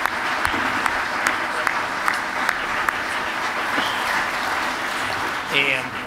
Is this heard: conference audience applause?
yes